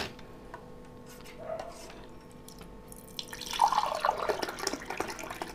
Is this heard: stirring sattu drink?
yes